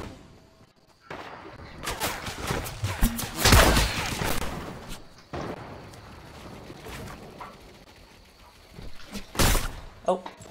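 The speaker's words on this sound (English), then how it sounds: "Firefight in the middle." Gunfire from a firefight in the Fortnite video game, scattered shots and bursts rising and falling over about ten seconds, with one loud close blast near the middle and another near the end, amid broadband game noise.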